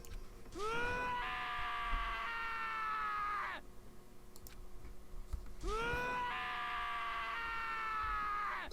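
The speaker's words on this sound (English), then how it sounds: "As Taka's sad screams invaded our skulls" Taka wails in Danganronpa: Trigger Happy Havoc, delivering two long, drawn-out anguished screams that rise and fall, each lasting about three seconds, separated by a quieter pause.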